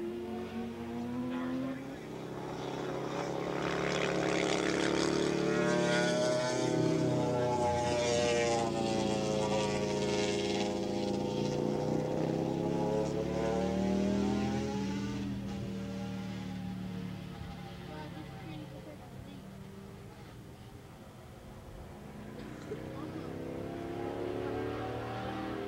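Open and 750cc Super Street racing motorcycles at Willow Springs International Raceway in 1986 scream past in a long, whining stream, engines rising and falling in pitch as several bikes pass one after another, loud then fading.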